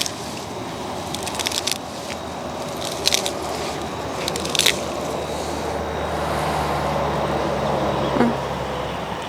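Celery and kale stalks are snapped off in a container garden, giving a few crisp crunching breaks over steady outdoor background noise.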